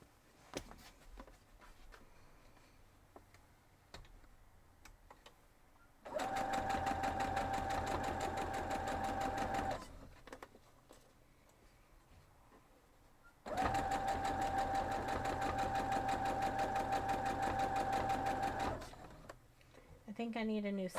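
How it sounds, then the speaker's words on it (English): Sewing machine stitching seams on a quilt block, running in two long steady bursts of several seconds each with quiet pauses between, close and fairly loud, with someone talking before and between the runs. "So let's go sew this up."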